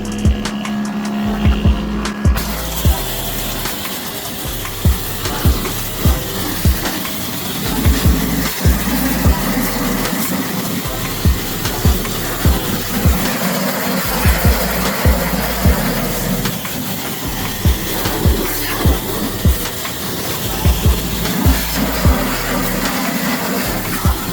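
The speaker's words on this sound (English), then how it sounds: "ain't nothing wrong with steam cleaning the engine" A steam cleaner sprays a truck engine with a constant loud hiss that goes on without a break. Sharp knocks and clicks come through it at irregular moments.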